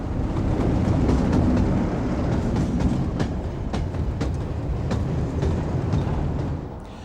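A Class 47 diesel locomotive hauls a block chemicals train along a meandering single-track line from Gaerwen to the Octel works at Amlwch, its steady loud rumble broken by repeated clickety-clack rail joint beats throughout.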